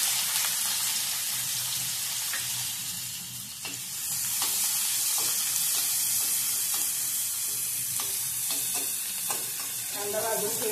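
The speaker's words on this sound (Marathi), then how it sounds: "कांदा भाजून घेऊया। कांदा तेलात" Onion frying in oil in a pan, a bright continuous sizzle with scattered crackles and spoon scrapes, close and steady, with no talking.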